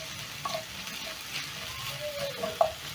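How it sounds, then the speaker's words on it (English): Onions, garlic and ginger fry in a pan for Kenyan-style matumbo (tripe), giving a steady close sizzle with light stirring scrapes and a few sharper pops, no talk. "So I'm going to be cooking my onions until soft."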